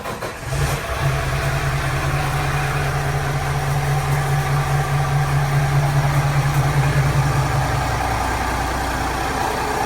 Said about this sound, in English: I have the hatch open, and I'm going to give the engines a start.